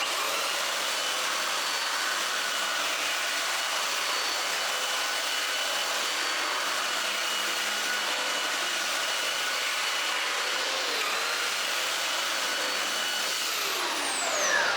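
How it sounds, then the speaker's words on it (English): A power sander held at an angle runs continuously against a wood edge, smoothing a sharp corner into a curved lip, with a steady broadband whine and rasp throughout and a slight swell near the end. "taking the sander, holding it at an angle to the wood"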